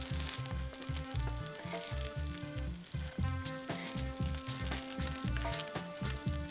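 Food browns in a frying pan in a mountain hut kitchen, giving a quiet, steady sizzle that runs under a rhythmic, pulsing background.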